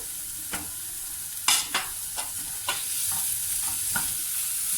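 Chopped capsicum stirred and fried in a pan for a shakshuka egg omelette, with scattered sizzles and scraping stir strokes over a steady close hiss, no talking.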